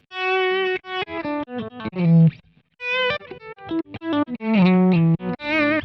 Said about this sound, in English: So this is a poor man's reverse delay.